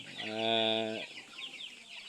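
A single drawn-out hen cluck rises clearly, followed by softer background chirping and faint clucks nearby.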